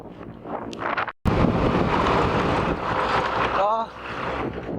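Strong wind blows hard on a rainy, windy day in Nepal, roaring and buffeting the microphone loudly and close, with a brief cutout near the start and a short burst of voice later.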